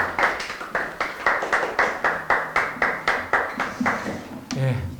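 A church conference audience claps in unison to welcome a speaker, about a dozen sharp, evenly spaced beats, fairly close and steady, ending with a brief voice.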